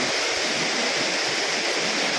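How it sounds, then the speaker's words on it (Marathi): A village waterfall in Ratnagiri surrounded by dense trees, a steady loud hissing roar of falling water, close and unbroken, with no voices. "मयूरदा कसा वाटला मग आमचा गावचा धबधबा?"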